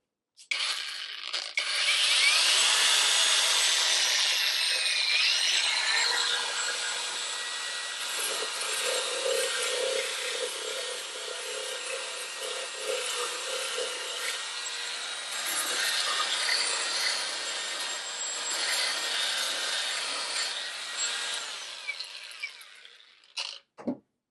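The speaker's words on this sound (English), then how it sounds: "I'll continue sanding on this." A VerveWave WT8841 cordless band file sander grinds against wood in a long continuous pass, a harsh raspy whine that shifts in pitch as pressure changes, then cuts off.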